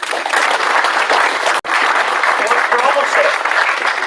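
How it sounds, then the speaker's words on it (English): Loud, steady applause from an audience at a military promotion ceremony on an air reserve base, dense clapping throughout with a momentary dropout midway. "So round of applause for those."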